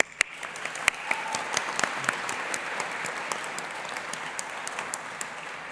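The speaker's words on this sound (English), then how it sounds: "let's have a cheer for them." Audience at a graduation ceremony breaking into sustained applause with scattered cheers, a dense crowd of clapping hands that holds steady throughout, with no speech over it.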